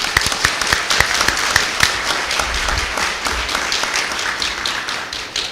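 Applause at a school board meeting for visiting elementary scholars, a room full of hands clapping steadily and fairly close, with individual claps standing out in a brisk, even patter that fades slightly at the end.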